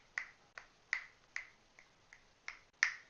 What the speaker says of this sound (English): If I snap my fingers on the side